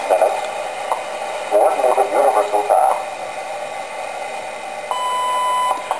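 A one-tube radio receiver hisses with static as a faint, warbling station voice drifts in and out, followed by a steady electronic whistle tone.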